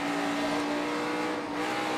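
A NASCAR Sprint Cup race car engine held under steady throttle during a full race, a continuous loud droning roar with a sustained tone through the whole stretch and no voices.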